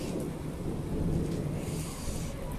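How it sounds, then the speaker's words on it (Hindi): Steady, dense rain pours outdoors over small plants and trees with a deep, continuous rumble of thunder beneath it, loud and unbroken throughout. "तो देख सकते हैं हमारे तरफ ये हो रही है बारिश"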